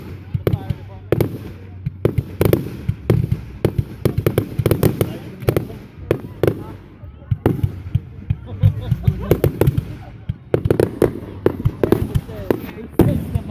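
Fireworks go off in a dense, rapid string of sharp cracks and pops, loud and fairly near, crackling for over ten seconds as people talk in the background.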